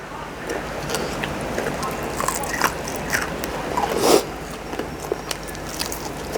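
Crunchy bites into a large deep-fried field rat, first grilled and then fried, with scattered crackly chewing crunches over a steady low background and one louder crunch near the middle.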